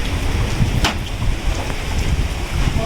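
Rain falling outdoors, a loud, dense and steady broadband patter close by with no voices.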